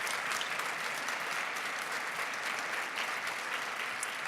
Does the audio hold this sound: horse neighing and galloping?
no